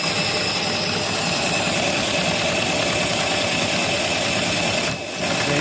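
Coal-fired LGB live steam Shay geared locomotive with a three-cylinder engine running steadily, a dense continuous mechanical chuffing and hiss close by, with a brief dip near the end.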